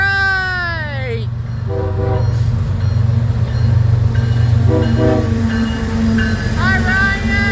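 A BNSF coal train led by locomotives rumbles past close by, its horn blasting in several long chords over the heavy continuous roll of the wagons.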